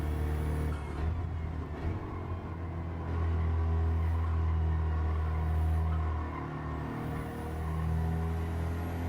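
A Volkswagen GTI on a hot lap around a race track, its engine droning steadily with rises and dips as it pulls through corners and shifts, a continuous close-up cabin rumble throughout.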